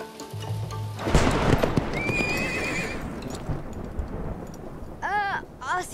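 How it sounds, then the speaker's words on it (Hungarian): Horses neigh loudly with shrill whinnies as hooves clip-clop in a steady rhythm nearby, with a rumbling storm-like background noise underneath throughout. "Azt hiszem, itt az ideje visszavinnünk a lovakat."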